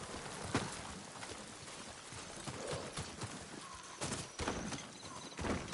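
Horse hooves walking in the video game Ghost of Tsushima, producing a steady clip-clop over outdoor game ambience with some louder hoof strikes.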